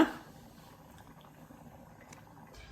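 Salt-water brine for a mango pickle, simmering on the stove with a faint, soft bubbling hiss, quiet and steady after a brief opening knock, with no talking.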